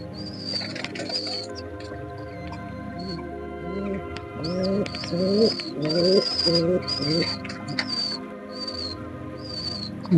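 Pigeons in a loft coo in soft, repeated throaty rolls over a steady background hum, with faint chirps and a brief flutter of wings; a voice talks quietly underneath.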